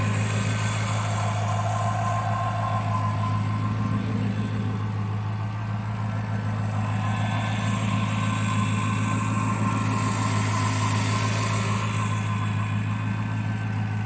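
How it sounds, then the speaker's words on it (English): A HEMI V8 in a cheap Chrysler 300, recently repaired after major engine damage, idles smoothly and steadily with a low, even hum and faint injector ticking, close and alone for the whole stretch. "This engine sounds super smooth considering everything that happened to it."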